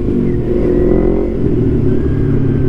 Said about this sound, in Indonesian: Geber-geber depan polisi slow aja ya kan.